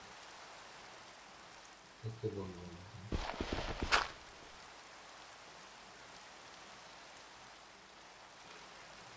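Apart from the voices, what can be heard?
rain falling in Minecraft video game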